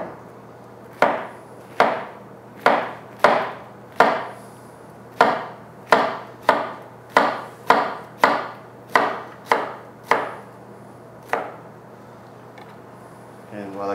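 A knife slices food to about quarter-inch thickness on a cutting board, making roughly fifteen crisp, evenly spaced chops over a low steady hum, then stopping.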